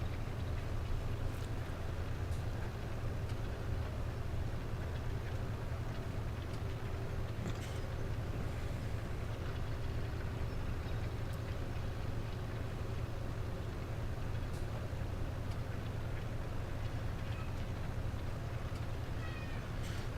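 In Farming Simulator 17, a tractor pulls a cultivator across a field on the Lawfolds, Aberdeenshire map, giving a steady low engine drone that holds level and unbroken throughout.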